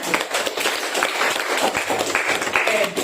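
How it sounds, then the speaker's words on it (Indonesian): A room of colleagues at a teacher workshop applauds in a steady, dense burst of clapping that lasts about three seconds, close and fairly loud, with a few voices mixed in. "Kasih aplaus untuk teman-teman"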